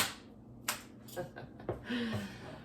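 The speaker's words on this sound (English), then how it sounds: "Let's not forget our clap snaps." A few sharp, separate claps and finger snaps at irregular intervals, fairly close and modest in level, mixed with brief voice sounds between them.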